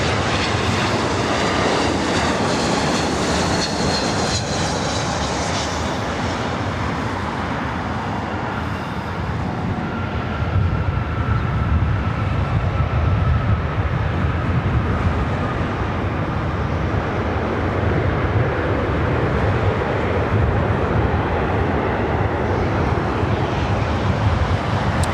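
Airliner jet engines roar steadily at LAX airport, a loud continuous rumble with broadband rushing that swells and shifts as an aircraft passes nearby, with no talk.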